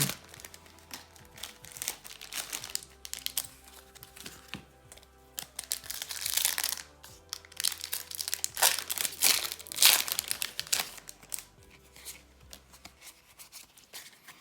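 A Pokémon card booster pack from a triple pack being torn open, its foil wrapper loudly crinkling and crumpling in close, uneven bursts across the clip, with no talking.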